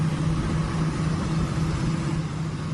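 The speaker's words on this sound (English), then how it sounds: "It's the sound of 2 John Deere tractors" Two John Deere tractors towing a captured Russian Army Tor M2 air defense system give off a steady, dense engine rumble with a low droning hum, continuous and fairly loud throughout, with no voices.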